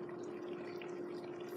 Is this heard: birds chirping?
no